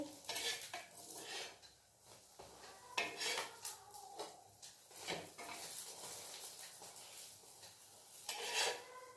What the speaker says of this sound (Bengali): ব্রেড অমলেট ভাজছি